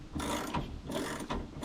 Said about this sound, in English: It's fine thread, so it takes a little bit of wrenching here.